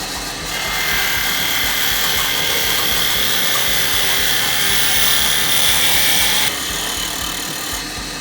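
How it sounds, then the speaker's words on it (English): A wood lathe runs steadily while an EDC box is turned, giving a loud continuous whirring hum with faint high scraping. The level drops slightly near the end. No one talks. "turn down your lathe speed a little bit"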